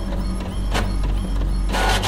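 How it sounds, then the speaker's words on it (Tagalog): Printer printing in the horror game The Mortuary Assistant, a loud, steady mechanical whirr with rhythmic clicks and feed surges, alone and up close. "Typical na tunog ng ano ng printer."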